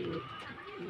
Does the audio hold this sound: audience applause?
no